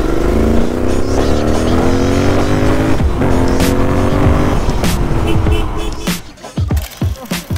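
A loud Royal Enfield Interceptor motorcycle engine revs up through gears to around 90–100, its pitch climbing, dropping at each shift, then climbing again before easing off near the end.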